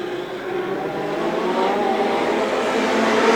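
A field of Legend race cars accelerates off a green-flag start. Their engines rise from a steady drone into a louder, swelling roar that builds toward the end, with no talk over it.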